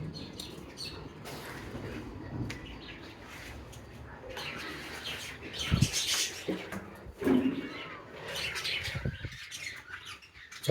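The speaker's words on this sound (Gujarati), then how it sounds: "ચકલીને પિંજરું ખોલી નાખીશું આપણે." Pet budgerigars squawk and chirp in a cage, scattered sharp calls coming in bursts over a soft background, some louder and nearer than others.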